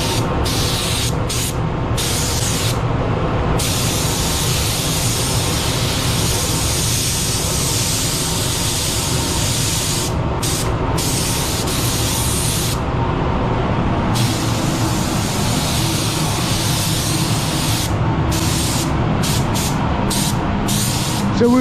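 A spray gun lays coats of paint onto a car panel, a loud, close, continuous hiss of compressed air and atomized paint with brief breaks between passes.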